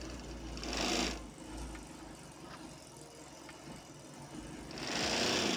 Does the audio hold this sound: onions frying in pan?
no